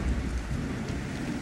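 A dark, stormy ocean with rain and thunder makes a steady, low rumbling wash of noise, moderately faint and continuous, with no voices.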